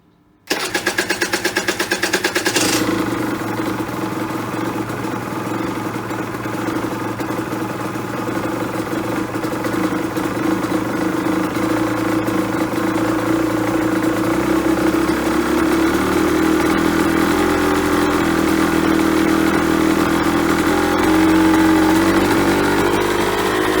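A cold engine on full choke, running on E5 fuel, fires up at once and settles into a steady, loud, close idle that carries on with a slowly shifting tone.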